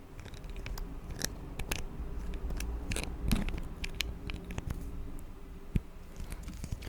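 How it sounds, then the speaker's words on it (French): Close, quiet clicks and plastic snaps of a pen cap pushed on and pulled off repeatedly, scattered irregularly over faint background hiss. "On capuchonne et décapuchonne le stylo."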